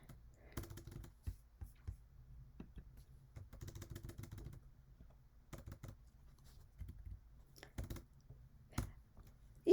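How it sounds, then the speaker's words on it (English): Bursts of keyboard typing at a computer, quiet and fairly close, arriving as short clusters of clicks separated by pauses, with a faint low background hum. "You can also start typing."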